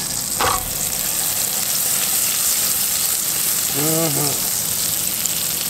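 Butter and oil sizzling in a pan, a loud, steady, close frying hiss throughout, with a short murmured voice partway through.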